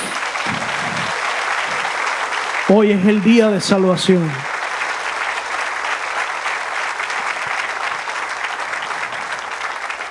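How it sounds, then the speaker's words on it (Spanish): Church congregation applauding loudly throughout, a dense steady roar of clapping with a man preaching over it briefly in Spanish near the middle. "Si va a dar un aplauso, déselo fuerte."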